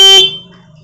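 The repaired electric horn of a TVS Jupiter scooter gives one short, loud, bright beep lasting about a quarter second, then cuts off into a quiet low hum.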